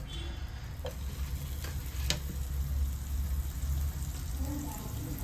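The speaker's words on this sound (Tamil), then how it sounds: "இதோட கொஞ்சம் பட்டர் சேர்த்து பிரெட்டை டோஸ்ட் பண்ணி எடுத்துக்கலாம்." Butter sizzling in a hot pan for toasting brown bread, a steady soft frying hiss over low rumble with a few faint clicks, fairly close and continuous throughout.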